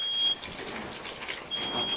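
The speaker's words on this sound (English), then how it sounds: "Somebody might want to unplug that smoke alarm." A kitchen smoke alarm, set off while potatoes fry, sounds a high electronic tone in two short bursts, one at the start and one near the end, over a steady background hiss.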